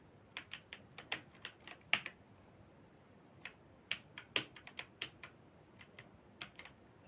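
Clicky keystrokes on a faulty computer keyboard, tapped in short irregular bursts with pauses between them, fairly close and moderately quiet, with no talking.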